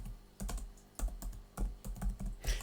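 Typing on a computer keyboard: quiet, close key clicks in short irregular bursts with brief pauses, faint and alone without any voices.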